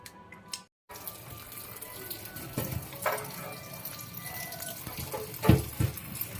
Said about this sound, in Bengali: জল দিয়ে ভালো করে কচলে ধুয়ে নিতে হবে কুলগুলোকে